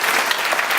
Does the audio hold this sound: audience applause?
yes